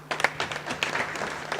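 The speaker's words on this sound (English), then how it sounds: "Can we do a round of applause, please?" Short, soft applause from an audience at a public service leadership fellowship event, welcoming a speaker, a brief patter of scattered claps at low volume.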